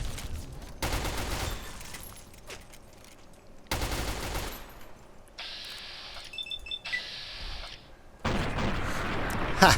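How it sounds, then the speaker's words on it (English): Submachine gun fire in the Fallout video game, heard as several loud bursts of rapid shots separated by quieter gaps, with other game sounds between them. "I found myself a submachine gun."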